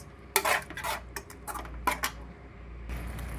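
A spoon stirs gongura egg curry in a pan, with a few scraping, clinking strokes against the metal, close and fairly quiet, in short bursts.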